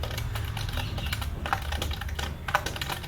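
Rapid clicking keystrokes on a computer keyboard run in an uneven, continuous patter, close and moderately loud, with no talking.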